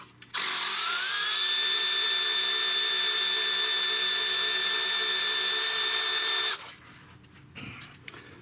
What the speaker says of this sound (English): I guess they call it a heavy duty Milwaukee 3/8 drive.